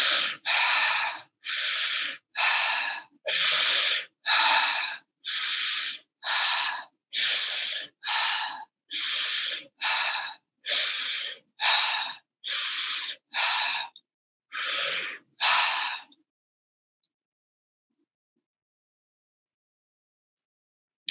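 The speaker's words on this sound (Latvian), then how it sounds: "Dziļi ieelpa, izelpa." Deep, forceful breaths in and out during a guided meditation, about seventeen hissing breaths in a steady rhythm. They are close and loud, with no voice, and end in silence.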